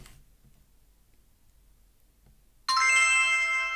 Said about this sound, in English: instantly I get that particular notification on my app